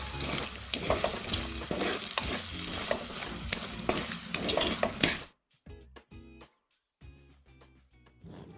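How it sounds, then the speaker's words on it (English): Dry masala spices sizzle and fry steadily in a pan for a curry while being stirred, then give way to a few quieter scraping stirs and short pauses. "Add all the dry ingredients and mix it well. Let the masala get cooked. Let it not get burnt."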